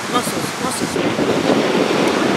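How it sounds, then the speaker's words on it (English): Large ocean waves break along a Hawaii surf shore in a steady, loud roar of rushing surf, mixed with wind buffeting the microphone, with no clear speech. "Those waves are huge"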